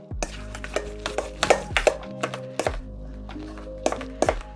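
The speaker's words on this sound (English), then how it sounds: "And now we stir and mix this all together" Potatoes with salt and pepper being stirred and mashed in a pot, a utensil giving repeated thunks and scrapes against the side at an uneven rhythm, close and fairly clear with no talking.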